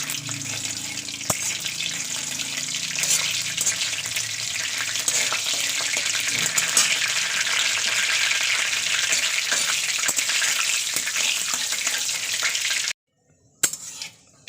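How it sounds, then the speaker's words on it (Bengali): Spices frying in hot oil in a wok on a gas stove, a loud, dense, continuous sizzle with occasional stirring scrapes that stops abruptly near the end, leaving near silence. "মশলাগুলো একটু ভাজা ভাজা করে নিতে হবে"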